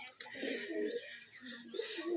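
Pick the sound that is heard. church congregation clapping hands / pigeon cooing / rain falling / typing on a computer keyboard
pigeon cooing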